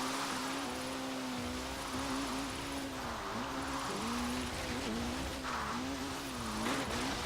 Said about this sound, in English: Definitely got that extra wheel spin that we needed.